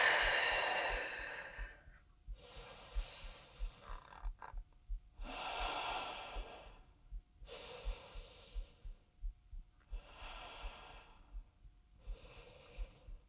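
Deep breaths during a yoga-style mat workout, slow audible inhales and exhales in a series of about six long, soft breaths with quiet pauses between, close and alone.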